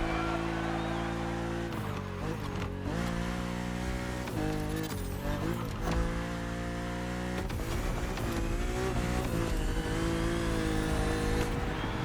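A car engine in The Crew Motorfest video game drones steadily, its pitch rising and falling as the driver accelerates, shifts and revs, loud and close throughout with faint talk beneath.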